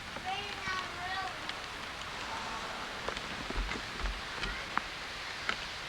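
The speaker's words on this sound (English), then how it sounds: "Oh, raining on the road." Rain falls on a road by a lake cottage under rebuild, a soft continuous patter with scattered drip ticks, while faint voices and a high whistling sound come through early on.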